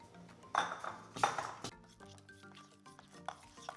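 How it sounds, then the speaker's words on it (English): Four ounces of cream cheese are mixed in a bowl to cream it for a cupcake filling. Quiet, close stirring is broken by a few louder knocks and clinks early on, then softer scraping. "we're going to start off with 4 ounces of cream cheese. We're just going to mix this to cream it a little bit."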